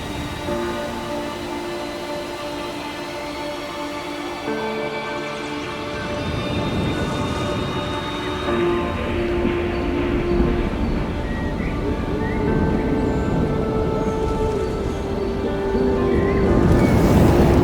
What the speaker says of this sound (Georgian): ამ ხელა ჩანჩქერი ცხოვრებაში არ მინახავს მართლა